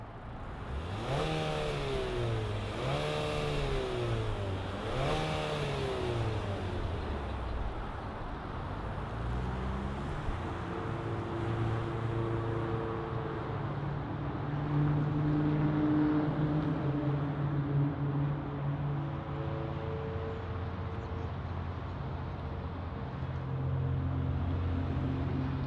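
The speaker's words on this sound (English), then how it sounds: "let's fire this up and hear what this new engine sounds like" A 2025 Nissan Murano Platinum SUV with its new engine starts up and revs three times in quick succession, then settles into a steady idle that hums on close by with no talking.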